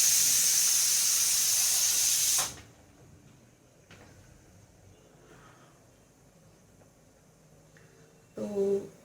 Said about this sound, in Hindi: कुकर मेरा सीटी मार रहा है